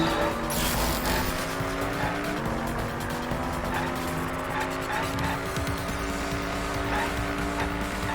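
Car driving in the Danganronpa V3 video game, with engine drone and tire-squeal-like sounds layered over constant game music and effects, steady and loud throughout.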